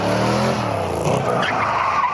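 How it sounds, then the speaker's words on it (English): A front-engine, rear-wheel-drive car snaps into oversteer, and its tires skid with a loud, sustained squeal over the roaring engine, continuous and close for the whole stretch. "It's snap oversteer."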